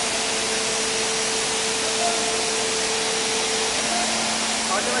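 Large 400-ton three-axis hydraulic straightening press running, a loud steady broadband hiss and hum with a faint tonal whine, constant and close throughout.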